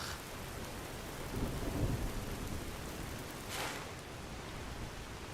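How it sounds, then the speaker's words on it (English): Steady video-game rain hisses throughout while low rumbles of thunder swell and fade in the background, from Skyrim. "It's raining."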